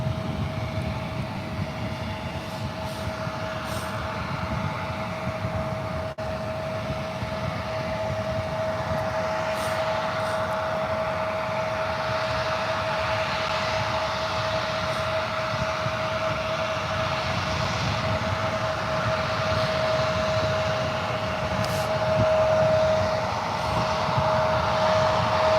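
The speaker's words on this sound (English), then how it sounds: "It's an Embraer E175 LR." An Embraer E175 LR regional airliner flying Alaska SkyWest at San Francisco airport produces a steady, broad jet roar with a sustained whine. The sound holds at an even level throughout, with faint clicks and distant noise behind it.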